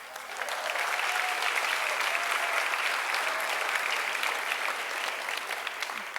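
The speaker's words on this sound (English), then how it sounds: "give yourselves a round of applause." A graduating class at a scholarship and awards gala claps for itself, a full crowd's applause swelling quickly and holding steady and loud, then easing slightly near the end.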